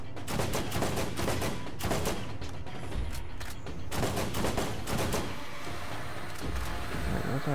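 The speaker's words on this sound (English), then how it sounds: "I like the burst fire. You hadn't tried out this gun yet." A burst-fire gun in the Borderlands shooter game fires over and over, with short volleys of rapid shots repeating at irregular intervals over a continuous busy background of game noise.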